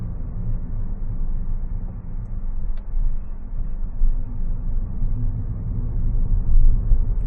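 Low road and drivetrain rumble inside a 2025 BYD Dolphin Surf electric car driving in sport mode, steady and muffled with slight swells, no speech.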